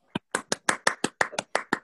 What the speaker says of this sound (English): Everybody unmute and clap.